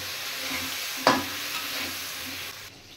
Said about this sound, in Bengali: এবার বেগুনগুলো ভালো করে একটু ফ্রাই করে নেব।